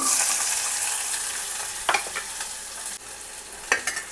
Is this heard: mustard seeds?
yes